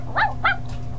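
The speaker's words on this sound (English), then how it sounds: "They're just barking." Puppies bark back and forth, two short close yaps followed by a fainter third, over a steady low hum.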